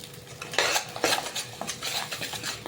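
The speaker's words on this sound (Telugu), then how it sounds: "ఈ మసాలా మనం ఆయిల్లో వేసుకొని బాగా మసాలా ఫ్రై అవ్వాలండి" Cashew masala paste is fried in oil and stirred in a pan, with close, irregular scraping strokes and utensil clinks over a light sizzle and no voices.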